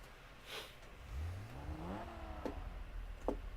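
A Lancia being driven in the Test Drive racing game, its engine rising in pitch as it accelerates, with steady revving tones climbing over a low rumble and a couple of brief ticking clicks.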